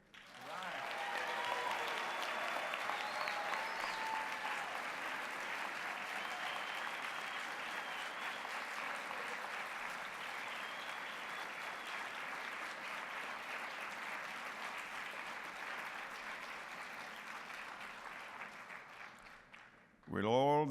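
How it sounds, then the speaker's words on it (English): Audience applause at a graduate studies convocation, a large crowd clapping steadily for nearly twenty seconds in a big hall before cutting off abruptly at the end. "give a round of applause to family, friends, faculty who helped you here today"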